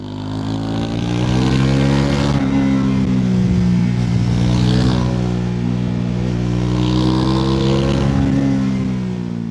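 A Triumph 400cc single-cylinder Tracker motorcycle revs up close, its engine pitch climbing and falling in a couple of loud, drawn-out throttle swells.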